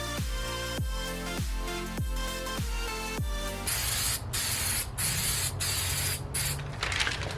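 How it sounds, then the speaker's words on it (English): Spray paint hissing from an aerosol can over a wooden American flag stencil, coming after a run of sharp rhythmic can-shaking rattles, then steady close bursts of spray with brief pauses between passes. "and then I'll just go ahead and spray a few coats on there"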